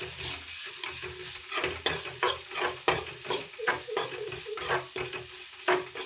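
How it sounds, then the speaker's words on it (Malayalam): Tomato masala with salt is stirred in a hot pan, a close sizzling bed punctuated by a steady series of spoon scrapes and taps against the metal, no voices present. "ഇത് നമുക്കൊന്ന് ഇളക്കി കൊടുക്കാം."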